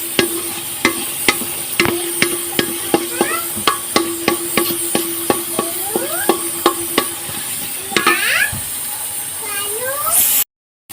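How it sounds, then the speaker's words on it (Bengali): Potatoes frying in a pan and being stirred, with a steady sizzle under repeated sharp scraping and tapping strokes of a spoon against the metal, fairly close, ending in a brief cut to silence. "দেখো আলু দিয়ে দিয়েছি, আলুটা 2-3 বার নেড়ে নিই"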